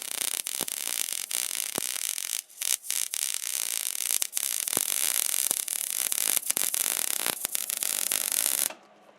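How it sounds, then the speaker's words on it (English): Welding a steel base for a shooting dueling tree, a loud continuous crackling hiss close by, broken by brief gaps and pops, then stopping abruptly near the end. "Glenn's welding up a base for his dueling tree over at my place"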